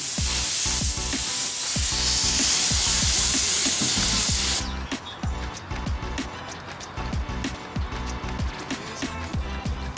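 A paint spray gun hisses loudly and steadily while coating a lowrider body panel, then cuts off about halfway, leaving quieter tapping and handling noises.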